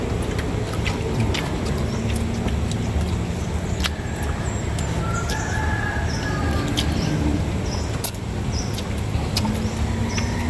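A rooster crows amid a steady wash of outdoor noise, with passing traffic and other birds chirping faintly in the background.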